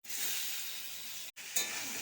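Boiled seeded bananas added to a pan after fried potatoes, giving a steady soft sizzle and hiss that breaks off briefly, then resumes with a quick crackle.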